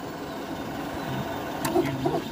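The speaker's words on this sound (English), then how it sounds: "And then here is the printer in action." A 3D printer in a lab prints a raft, giving a faint low mechanical hum with short tonal motor chirps toward the end, quiet and even throughout.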